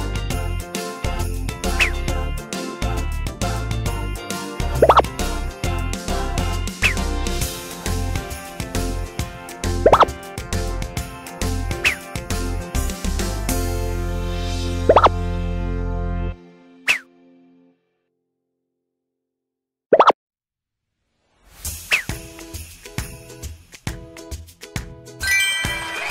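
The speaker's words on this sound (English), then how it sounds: "Bubbles." Cartoon bubble sound effects in a children's alphabet lesson: a bouncy rapid run of plops and pops with regular bright dings, a short silent break, then a chime and more popping.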